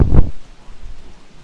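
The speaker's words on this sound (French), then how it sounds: "C'est la pluie de grenouilles." A heavy thunder rumble bursts loud and close at the start during a rain of frogs in a video game, then drops to a soft hiss of falling rain that continues faintly to the end.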